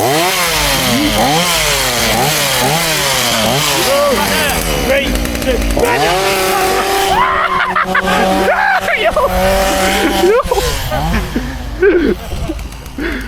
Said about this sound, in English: I don't know what it is about a chainsaw.